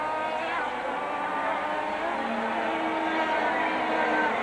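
Formula-A racing karts' two-stroke engines at the 1990 Hong Kong International Kart GP pre-final, a steady, dense buzzing whine heard continuously at close to middle distance, with a race commentator talking over it.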